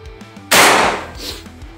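A single loud, close PCP air rifle shot bursts out with a sharp hissing crack that fades quickly, over a low steady hum.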